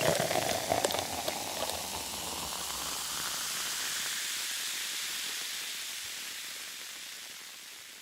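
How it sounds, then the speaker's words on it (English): Beer pours into a glass in a long, steady fizzing stream with bubbling foam, starting loud and slowly fading as the glass fills. "That's the longest pour of a beer ever."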